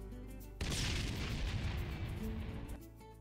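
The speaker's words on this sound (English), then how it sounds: "That was a rip-snorter of an explosion, eh, mate?" A loud, sustained explosion roars through the Ty the Tasmanian Tiger 2 game scene, a sudden blast that rumbles heavily for about two seconds before fading back to the quieter game background.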